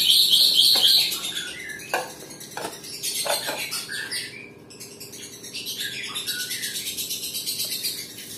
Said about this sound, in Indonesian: respon lovebird saya ketika saya pisah dari untulannya. Dia langsung mau bunyi dengan cepat